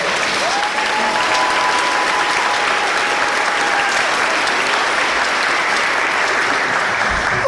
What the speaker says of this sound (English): Can we get a round of applause for fifth graders?